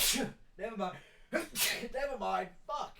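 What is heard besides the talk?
sneezing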